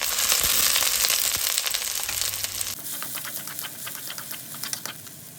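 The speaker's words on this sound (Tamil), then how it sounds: "இதில் சின்ன வெங்காயம் சேர்த்துக்கலாம். கருவேப்பிலை சேர்த்துக்குங்க. சேர்த்து நல்லா வதக்கி விடுங்க." Shallots and curry leaves sauté in hot oil with mustard seeds for a crab masala, first as a loud, dense sizzle, then as a quieter crackle with scattered sharp pops, close by and without speech.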